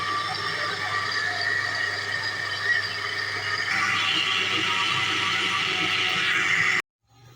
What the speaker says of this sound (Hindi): अब हम इसे जूसर में पीस लेंगे।